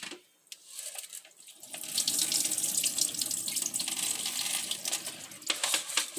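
Sushi rice being rinsed under a running kitchen tap, a steady broad rush of water with grains and water sloshing in a bowl, close and continuous after a brief quieter start.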